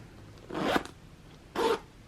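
Louis Vuitton bag zipper, made in France, pulled in two short rasping strokes, the second sounding a little stiffer; close and fairly quiet with no voices.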